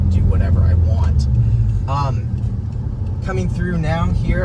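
A 2021 Subaru WRX STI driving, its engine rumbling steadily in the background from inside the cabin while someone talks over it throughout.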